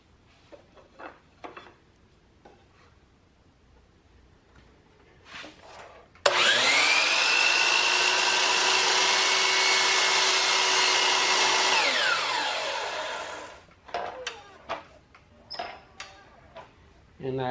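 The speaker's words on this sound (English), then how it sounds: "Now we're going to cut the miter, and be careful which side you're cutting." A power saw cuts a miter in wood for a picture frame, spinning up sharply into a loud, steady whine for about six seconds before winding down, with soft knocks and handling noises before and after.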